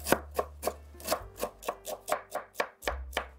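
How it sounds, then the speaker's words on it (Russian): A knife chops young cabbage on a cutting board in a kitchen, about a dozen crisp, evenly spaced strokes close up, with a low hum underneath and no talking. "Капуста у меня такая молоденькая, поэтому я ее режу довольно крупно."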